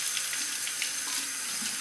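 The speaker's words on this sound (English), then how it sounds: "Rinse the razor." Tap water runs steadily into a sink while a Merkur safety razor is rinsed, a close, even hiss with no voices over it.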